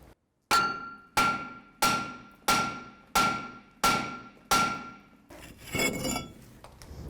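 Seven evenly spaced, loud metallic hammer strikes ringing out on a seized brake rotor of a Jeep Cherokee, each decaying with a bright clang, followed by clattering.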